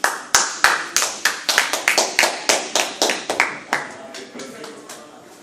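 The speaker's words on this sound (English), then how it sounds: "On applaudit encore une fois, s'il vous plaît." A small audience at a Haitian heritage month symposium claps, with distinct, rhythmic hand claps, each one sharp and close at first, that gradually thin and soften.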